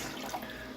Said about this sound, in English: still run the water